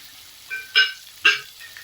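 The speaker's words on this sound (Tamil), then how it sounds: "நல்லா வதக்கி விட்டுக்கலாம்." Vegetables, carrots and finely chopped beans, sauté in a pan for semiya kichadi: two quick scraping stirs over a faint, soft sizzle, with no voices.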